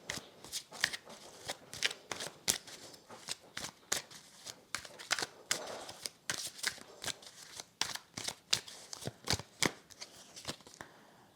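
Tarot cards being shuffled and laid down on a table during a card reading, a steady run of crisp, close riffling snaps and flicks repeating in quick bursts with no talking.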